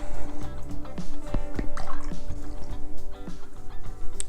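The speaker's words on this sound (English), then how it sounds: "clean my brush" A watercolor brush is swished and rinsed in a jar of water, giving small splashes and drips that come close and clear over a steady tonal background.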